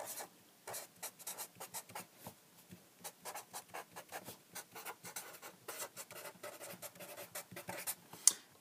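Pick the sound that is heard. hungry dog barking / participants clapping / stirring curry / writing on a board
writing on a board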